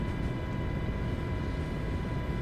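Steady, dense rotor and engine rumble of an MH-60 helicopter in a flight simulator game, continuous and loud throughout with no change in pitch, and no talking.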